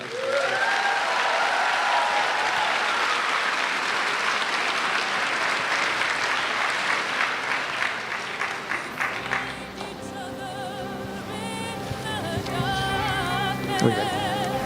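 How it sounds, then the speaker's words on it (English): Sustained applause from an audience for a graduating class of 2024 at a high school ceremony, steady and full for about ten seconds, then thinning into scattered claps with a few whistles and faint voices. "another round of applause for the class of 2024"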